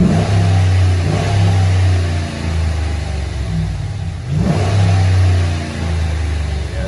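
A 2014 RAM 1500 pickup's V8 Hemi engine revs loudly, rising and falling twice with a deep rumbling exhaust note, close by and steady between pulls.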